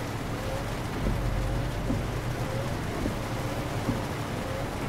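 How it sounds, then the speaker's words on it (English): Heavy rain falls in the Euro Truck Simulator 2 driving game, a steady, loud wash of downpour on the truck with a low rumble underneath, continuous throughout and with no talking. "Made the delivery in the piss pouring rain."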